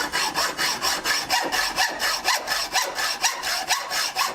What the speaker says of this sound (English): take this 18 tooth per inch hacksaw, cut right through it.